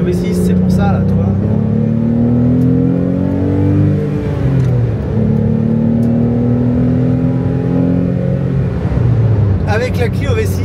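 Renault Clio V6 engine revving hard through the gears, loud rising and falling engine tones heard up close from inside the car, with a voice speaking over it near the end.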